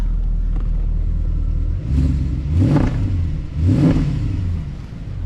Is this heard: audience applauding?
no